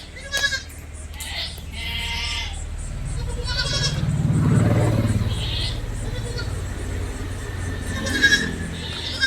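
A milk-giving mother goat and her three kids bleat in short, nasal calls, several near cries spaced apart over a low steady background rumble at a livestock sale.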